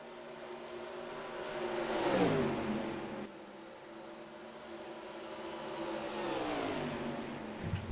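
Race cars in the NR2003 racing game run in a close pack, engines droning steadily with two swelling pass-bys and pitch sweeps as cars go by, moderately loud.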